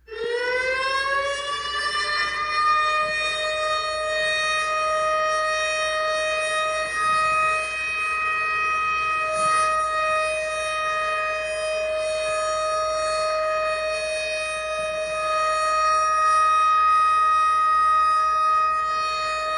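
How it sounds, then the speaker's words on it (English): A tornado warning siren winds up and then holds a loud, steady, multi-toned wail for the whole stretch, with no voices over it. "Here's what a tornado warning siren would sound like."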